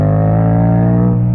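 A Yamaha MT-07 motorcycle fitted with an Akrapovic exhaust runs loud and close, its deep, rich engine drone holding steady throughout with no voices.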